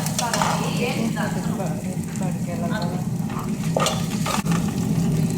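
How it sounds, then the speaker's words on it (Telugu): Garlic and green chilies fry in oil for rasam, a steady close sizzle and crackle with occasional stirring clinks, while someone talks over the cooking. "ఇక్కడ పచ్చివాసన పోయిందాక వేసుకోవాలి"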